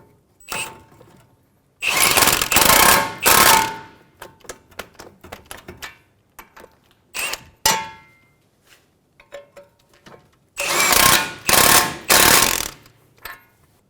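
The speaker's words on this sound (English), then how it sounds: "Tighten the bolts for the knuckle." An impact power tool tightens the front knuckle bolts on a 2003-2008 Honda Pilot, firing in loud, close bursts of hammering rattle separated by pauses and a few softer metallic clicks.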